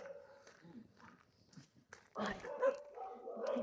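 Dogs bark and whimper in short, fairly distant bursts, then a person talks over the sounds as the noise grows closer and louder.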